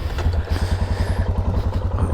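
A Suzuki DR 650 motorcycle engine idles just after starting, a steady, loud, close thumping pulse with some mechanical clatter.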